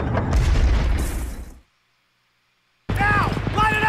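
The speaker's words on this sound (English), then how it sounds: "Did he just blow himself up?" Sticky bomb explosion from the war film Saving Private Ryan, a loud dense blast with rumbling debris that cuts off into silence, then battlefield voices shouting.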